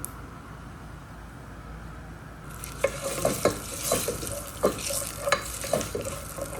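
Whole spices drop into hot ghee in a pan for prawn biryani rice, a quiet hiss giving way to bursts of sizzling and stirring scrapes that come in irregular pulses.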